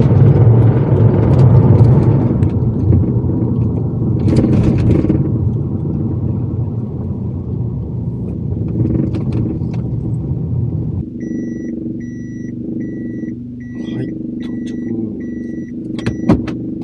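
A Toyota TownAce camper van with a camper shell rumbles steadily with road noise as it cruises along a highway, later joined by a series of regular electronic beeps from inside the cabin.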